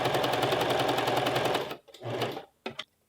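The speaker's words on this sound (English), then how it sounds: "And now we just want to pop on the sewing machine and close our sleeves here." Sewing machine running at speed as it stitches a puff sleeve closed on a western blouse, a loud, fast, even needle rattle up close that stops, then comes back in two short bursts.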